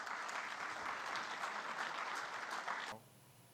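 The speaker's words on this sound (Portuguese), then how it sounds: "Mais uma salva de palmas." Steady applause from a crowd, dense clapping that stops abruptly near the end, leaving quiet room tone.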